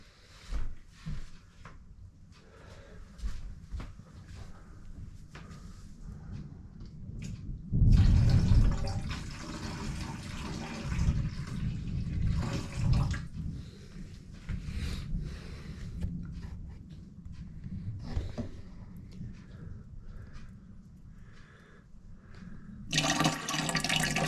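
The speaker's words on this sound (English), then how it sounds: "I'm pouring carefully so I don't disturb the sediment down in the bottom" Water poured carefully into a container off settled sediment at the bottom, a gurgling, splashy stream that swells loud midway then continues in softer trickles and glugs, with a few handling knocks.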